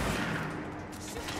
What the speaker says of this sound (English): there's, like, missiles and explosions everywhere.